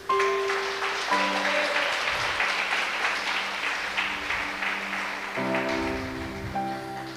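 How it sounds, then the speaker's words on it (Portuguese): A church congregation claps during a sermon, a continuous patter of hands like rain, with sustained organ or keyboard chords sounding underneath. "Eu posso ouvir uma salva de palmas para Deus?"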